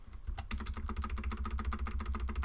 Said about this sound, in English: Like how loudly my keyboard's clicking, it's great.